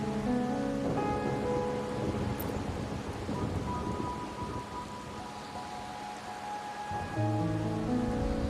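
Steady rain falls in the video game Wuthering Waves, a dense hiss of rainfall that continues throughout, with a low rumble and a soft tonal ambient backdrop.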